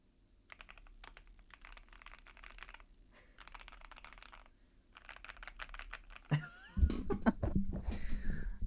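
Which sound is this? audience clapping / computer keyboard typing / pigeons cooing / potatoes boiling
computer keyboard typing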